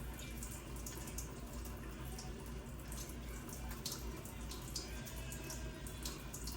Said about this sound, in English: we are going to rotationally wash the thumb using the opposite palm